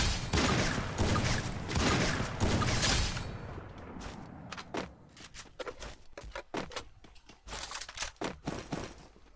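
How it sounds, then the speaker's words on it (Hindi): A silenced sniper rifle fires in the Free Fire mobile game amid a busy stretch of clustered gunfire and thuds: a dense, loud volley at first, then sparser sharp cracks and taps. "इनमें अभी भी किसी को स्नाइपर चला रहा, साइलेंसर लगी है।"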